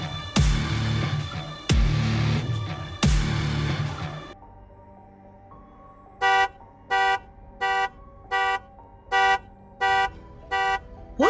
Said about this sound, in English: Sounds like a car alarm.